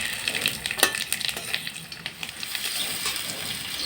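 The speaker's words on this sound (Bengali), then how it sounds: "জিরে, শুকনো লঙ্কা, তেজপাতা পুরনি দিয়ে দিলাম।" Cumin seeds, dried red chillies and bay leaf crackle in hot oil for a Bengali jackfruit biryani, a close, steady sizzle with sharp spitting pops, heard alone.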